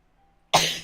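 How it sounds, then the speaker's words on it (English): After a short quiet pause, one abrupt loud sneeze bursts out close by, sharp at the start and trailing off breathily. "I'm gonna sneeze one."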